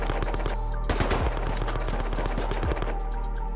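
An AK rifle in the video game Rust fires a rapid, loud automatic burst of shots that continues through the whole clip, with no speech over it.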